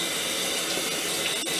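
Shower water running while a woman is washed with a washcloth: a loud, close, continuous spray with no talk.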